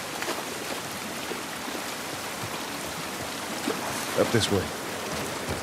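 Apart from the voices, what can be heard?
rain falling outside, from video game The Last of Us Part 1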